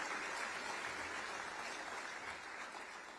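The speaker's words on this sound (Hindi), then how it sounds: "बेटियों के लिए थोड़ा ताली हो जाए" Sustained applause from a large convocation audience, offered for the daughters among the graduating students, a dense, steady clapping that fills the hall and tapers slightly toward the end.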